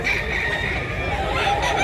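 Chickens cluck in a busy poultry market in Mantalungon, Cebu, amid steady crowd chatter and background noise, with people talking close by throughout the short stretch.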